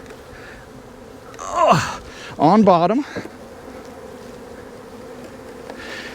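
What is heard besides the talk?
bees flying around hive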